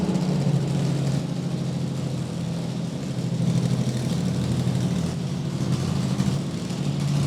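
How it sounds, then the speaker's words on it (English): A drag racing car's engine idles on nitromethane, a loud, close, rough rumbling drone with an uneven chattering beat that swells and eases slightly throughout. "Boy, now she's running on nitro."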